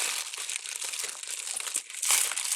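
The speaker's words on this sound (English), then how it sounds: "10-inch poly Deco mesh wide foil metallic orange" Close, continuous crinkling and rustling of 10-inch metallic orange poly deco mesh foil being handled, with irregular crackly bursts and a louder crunch near the end.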